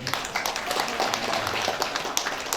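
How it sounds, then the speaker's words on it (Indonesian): Scattered clapping from an evening event audience welcoming a guest, soft and uneven, with a voice faintly present underneath. "Beri aplaus buat Pak Latif"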